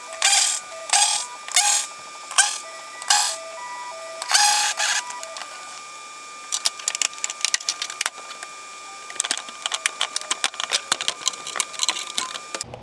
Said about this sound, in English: a pry bar just to get those clips out of there